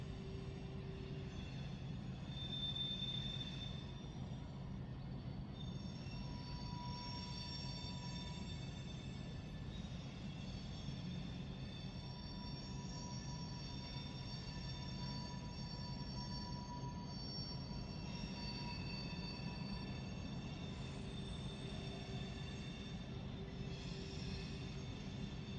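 The Coke Express, a freight train hauled by four engines, rolls steadily past with a continuous rumble, rattling cars and recurring high wheel squeals, heard alone at moderate distance.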